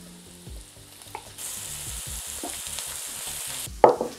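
Rashers dropped into a hot pan with softened onions, a steady loud sizzle rising after a few soft clatters and stirs, close up, with a sharp scrape near the end and no talking.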